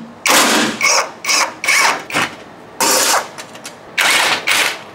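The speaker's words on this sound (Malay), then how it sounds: "Untuk protection plate ni, korang kena longgarkan part skru dulu." A ratchet loosens the screws on the protection plate under a Toyota GR Yaris, with loud close bursts of rapid clicking that start and stop repeatedly, separated by short pauses.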